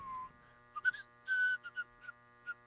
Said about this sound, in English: You can hear the guard whistling.